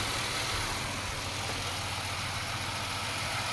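A car's AC cooling fans whir steadily alongside an idling engine, a constant, even drone with low rumble, nearby and unbroken, with no voices.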